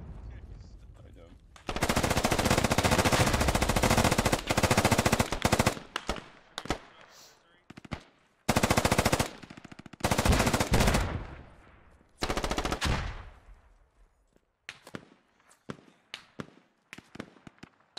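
Bursts of AK rifle fire in the Squad military shooter game, loud and close, with long sustained automatic volleys and shorter clusters of shots separated by brief gaps.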